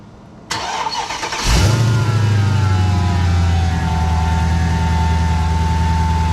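Mercedes CLK55 AMG with a swapped supercharged M113k V8 cranking over and catching, a loud bark at startup that settles into a deep, steady idle with a faint whine on top, heard close by.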